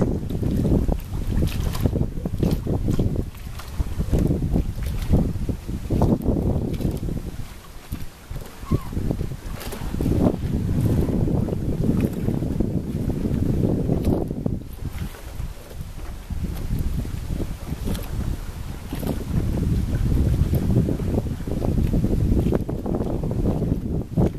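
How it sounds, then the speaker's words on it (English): Water laps and swishes against the hull of a gently moving sailboat at sea, a continuous wash of soft surges under steady wind noise on the microphone, with no talking. "we hear little other than the water lapping against our hull and being parted by Pinch as she gently rides over our shallow wake"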